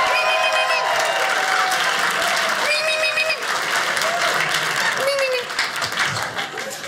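A comedy club audience breaks into sustained applause and cheering during a stand-up set, loud dense clapping with a few whoops on top that fades slightly toward the end.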